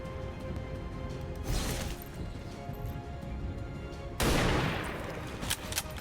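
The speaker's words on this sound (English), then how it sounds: "this is a perfect time to take that precision shot" A sharpshooter's precision rifle shot in the video game XCOM 2 Long War of the Chosen, heard as two loud bursts, one at mid-clip and a bigger blast near the end, over a constant ambient game hum.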